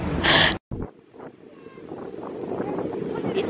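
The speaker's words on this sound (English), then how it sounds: "It's so windy." Strong wind buffeting the microphone on a seaside street in France during Halloween trick-or-treating, a steady roaring rush after a brief loud burst, with the beach nearly reaching the road.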